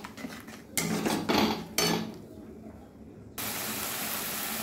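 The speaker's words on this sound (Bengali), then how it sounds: "এবার মশলাগুলো আমি ভালোভাবে কষে নেব।" Spices for katla kalia being stirred and fried down in a pan, with a few loud bursts of metal spoon scraping and clattering against the pan, then a steady hiss of cooking.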